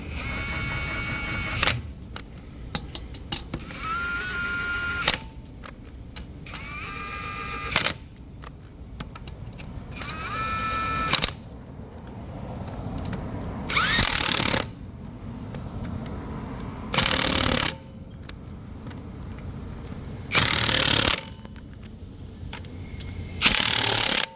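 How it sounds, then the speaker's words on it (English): Lug nuts being fastened as a front wheel goes back onto a Lincoln Corsair or Ford Escape after a brake pad replacement, with several loud bursts of an impact wrench or ratchet between quieter clicks and handling of metal parts. "Let's put your wheel back on."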